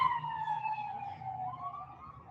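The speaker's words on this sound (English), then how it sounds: "Ambulance." Ambulance siren wailing steadily, its tone sweeping slowly from a rising pitch to a falling one and back, heard from inside a car on a self-driving car ride, moderately loud and continuous with no talking.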